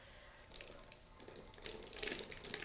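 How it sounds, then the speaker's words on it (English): Water runs steadily from a hose while a horse is bathed, a continuous close splashing and hissing flow that swells a little toward the end, with no talk over it. "we'll just leave this water run, walk around a little bit"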